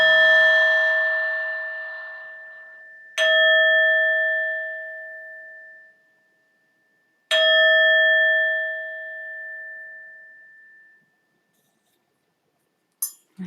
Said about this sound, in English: I'm just going to ding the bell 3 times to officially close our circle